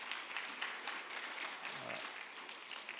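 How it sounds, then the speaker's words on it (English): Applause from a conference audience at a panel on the multilateral trading system, thanking the speakers: a fairly quiet, dense wash of many hands clapping steadily for about three seconds, with no voices over it. "let me ask you all to give a big round of applause to our speakers."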